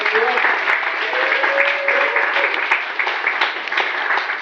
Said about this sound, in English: round of applause for the bridesmaids